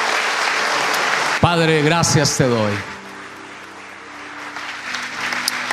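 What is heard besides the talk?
congregation applauding in church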